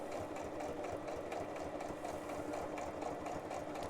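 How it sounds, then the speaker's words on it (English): Sewing machine stitching through cardboard, with a continuous close mechanical whir and rapid rhythmic needle chatter running at a steady pace with no talking. "you're asking a lot from a sewing machine when you're sewing paper"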